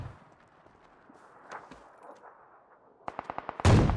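Gunfire in the battle-royale game PUBG on the Erangel map: a rapid burst of about six sharp shots near the end, followed by a loud blast, after a stretch of quieter in-game background noise.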